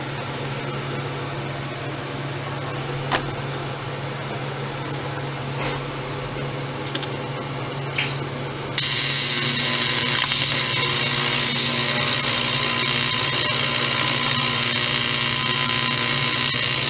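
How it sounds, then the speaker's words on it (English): Welding on a dirt bike engine case to fill a low spot: a steady hiss and hum, then a louder, brighter continuous crackling buzz takes over about halfway through and carries on to the end. "Might need to do touch one weld right on here."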